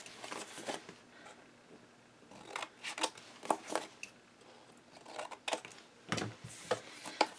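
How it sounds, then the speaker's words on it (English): Scissors snip the corners of 12x12 single-sided paper at an angle for a handmade mini album, a series of close, crisp cuts with paper rustling between them, no talking. "So we're going to do a cut at an angle"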